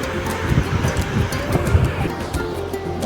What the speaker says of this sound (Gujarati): ટાટો પવન આવ્યા રાખે